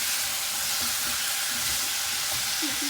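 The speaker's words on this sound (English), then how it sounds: "Just give it another stir." Cauliflower and potato curry being stirred in a hot pan, a steady close-up hiss of frying with faint scraping stirs underneath, continuous and fairly loud.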